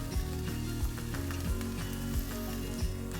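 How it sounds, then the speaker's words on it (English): Broccolini, shimeji mushrooms and bamboo sauté in olive oil, giving a steady close sizzle with faint rhythmic stirring scrapes and no talking. "Saute the veggies for 5 to 7 minutes."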